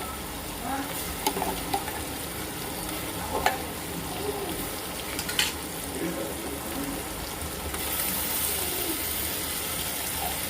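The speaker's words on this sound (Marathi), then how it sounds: "आपल्या तेलामध्ये थोडा मसाला फ्राय करून घ्यायचा" Ginger garlic paste masala with turmeric and mint frying in oil makes a continuous dense sizzle with a few scraping stirs and faint clicks, steady and close throughout, with no speech.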